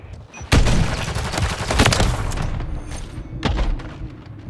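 Sniper rifle fire in Call of Duty: Modern Warfare III, loud sharp cracks with booming tails amid dense game battle noise, several shots spread across the stretch.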